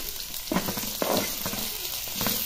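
Leftover chili masala sautés in hot oil in a pan, a steady close sizzle broken by several sharp stirring scrapes and crackles, with no voices.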